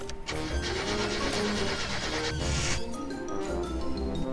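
A car engine in the video game My Summer Car cranks and sputters in a rough, uneven grind that nearly catches, loud and close.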